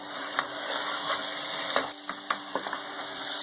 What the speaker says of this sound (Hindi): इस भुने हुए मटन के अंदर हम शामिल कर देंगे ये सारी चीजें जो हमने ग्राइंड करके रखी हैं, और इसको भी अच्छी तरह से फ्राई कर लेंगे